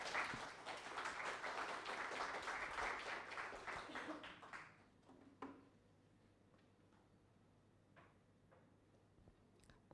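An academic panel audience at a Chilean university claps for the next presenter, a dense round of applause for about four and a half seconds that tapers off into a quiet room with a few scattered sounds.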